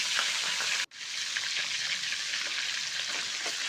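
Flour sizzles and fries in melted butter in a pan over a wood fire, a steady close hiss with soft stirring scrapes, broken by one brief silent gap near the start.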